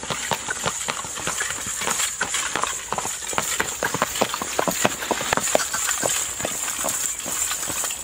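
A five-year-old horse clip-clops steadily with rapid, rhythmic hoofbeats, close and loud over a constant background hiss, with brief voices faintly underneath.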